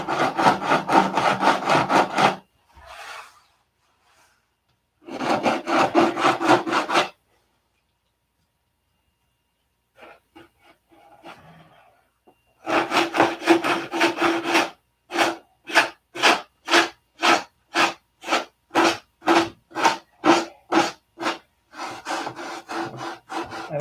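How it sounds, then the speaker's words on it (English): Sandpaper of 80 grit rubs back and forth over a model aircraft wing, first in long broad scraping passes, then a brisk run of about a dozen short rhythmic strokes, close and loud with a few quiet gaps. "I think I'm about done with the 80 grit on this"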